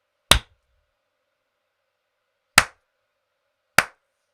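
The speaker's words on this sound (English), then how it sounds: "maybe it'll just work if I clapped" Three sharp, separate hand claps, the first near 0.3 seconds and two more after long gaps, each crisp and close with nothing else around them.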